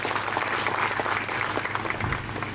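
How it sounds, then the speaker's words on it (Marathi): An audience claps for the teachers at a school reunion gathering, a dense, steady burst of applause from many hands filling the room, loud and continuous with no speech over it. "एकदा सर्व शिक्षकांसाठी टाळ्या."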